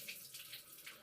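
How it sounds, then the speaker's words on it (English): Water drains from a bathroom faucet, a soft, faint, continuous trickle and hiss lasting about a second with no talking. "You gotta let the water drain."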